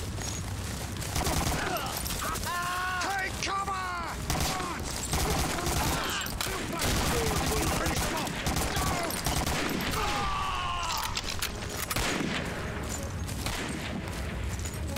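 Sustained rifle and machine-gun fire from the Medal of Honor: Allied Assault Spearhead Normandy mission, dense overlapping bursts and single shots at close and mid range, with brief shouted voices in the battle mix.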